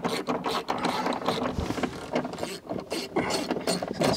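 A ratchet wrench clicks rapidly while undoing bolts on a 2003 Holden VY Storm ute during collision repair, a close, steady ratcheting rattle heard alone.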